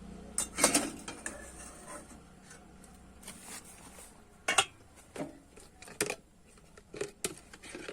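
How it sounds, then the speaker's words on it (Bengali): A stand and sweets set into a nonstick pan, producing a sparse series of close metallic clinks, knocks and scrapes separated by quiet gaps. "এবারে কিন্তু একটা স্ট্যান্ড বসিয়ে দিচ্ছি আর দিয়ে দিচ্ছি এবার মিষ্টিগুলো"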